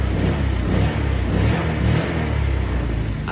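A motorcycle engine, suspected to be out of timing and unable to pull the bike forward, runs and revs with a steady, loud, close mechanical drone throughout, with no talk.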